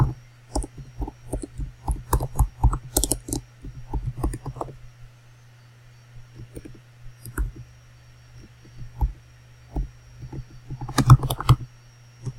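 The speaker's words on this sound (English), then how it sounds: "let's type a message." A message is typed on a computer keyboard in close, crisp bursts of clicking keystrokes, pausing midway and then resuming briefly, with no talk over the steady low hum of a quiet room.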